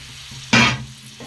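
Tomatoes drop into frying mutton, setting off a sudden loud burst of sizzling that fades back to a low steady fry within half a second, with a faint stir near the end; close and without talk.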